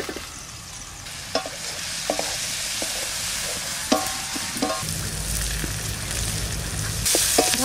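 Food frying in a pan in a home kitchen with turmeric and salt, a steady sizzling hiss with scattered stirring clicks and scrapes that grows a little louder toward the end.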